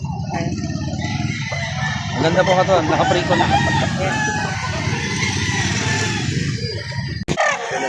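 Roosters crow at a gamefowl farm in Lipa City, loud and close with several overlapping calls and clucking, while someone talks over them.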